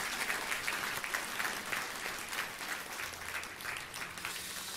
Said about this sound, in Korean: 오늘 25주년 맞이해서 한번 감사의 박수 쳐드립니다.